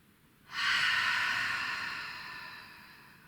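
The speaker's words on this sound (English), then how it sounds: "Mouth exhale." Forceful breath pushed out through the mouth during a yoga sculpt session, a single long whooshing exhale that starts abruptly, sounds close and fairly loud, then slowly fades over a few seconds.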